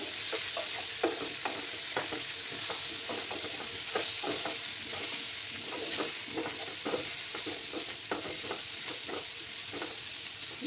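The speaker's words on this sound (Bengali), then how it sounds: "ভালো করে মশলার সাথে কষিয়ে নিতে হবে।" Small fish and potatoes with onion stalks stir-fried in spices for a Bengali chorchori, giving a steady close sizzle broken by frequent scraping stirs of the spatula, with no talking.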